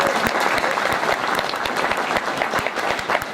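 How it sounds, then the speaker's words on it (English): Audience at a Reagan Day Dinner applauding a county chairman, a dense, steady wash of many hands clapping close by for the whole stretch, with no voices standing out. "let's just give Dave a big round of applause for the wonderful job he did"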